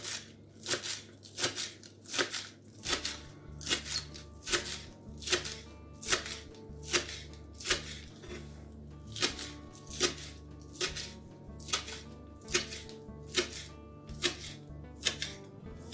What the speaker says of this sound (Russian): Мелко нарезаю зеленый лук.